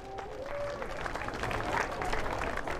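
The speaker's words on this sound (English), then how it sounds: "Give a big round of applause for the number 30" Crowd clapping for a rider introduction at a flat track motorcycle race, a fairly faint, steady wash of applause with a brief tonal sound near the start.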